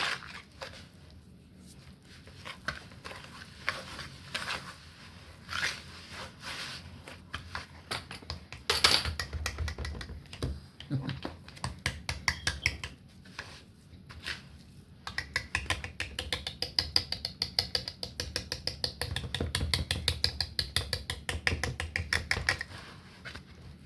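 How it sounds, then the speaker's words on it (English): Dry ingredients for funfetti birthday cupcakes are whisked together in a bowl: a steady run of rapid, rhythmic scraping and clicking, getting busier and louder toward the end, with no talking. "whisk this together before we add our remaining, our wet ingredients."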